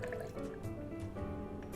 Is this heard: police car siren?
no